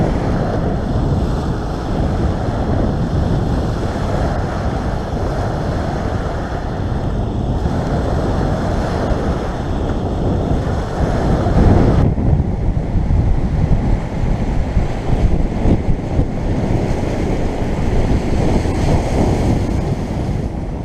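Sea surf washing onto the shore at the tip of the Käsmu peninsula in Estonia, with strong wind buffeting the microphone, a loud steady roar of breaking waves and gusts throughout, no voices.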